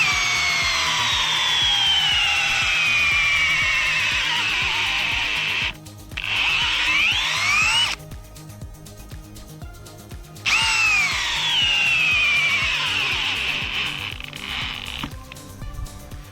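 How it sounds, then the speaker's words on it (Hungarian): A loud Bosch Professional GSB 18V-150 C cordless drill in second gear boring into a red pine beam, its whine rising and falling, jamming and stalling twice with short pauses before spinning up again. "mindjárt megfűrjük vele ezt a fenyő, azt hiszem vörös fenyő gerendát."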